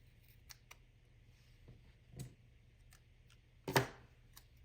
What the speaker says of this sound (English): I'm going to cut this one.